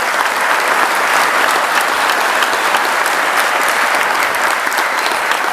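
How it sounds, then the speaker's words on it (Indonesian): Steady, dense applause from a crowd at an Islamic boarding school gathering in Sragen, sustained and even throughout without pauses. "Tepuk tangan untuk Nurul Huda"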